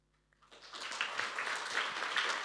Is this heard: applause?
yes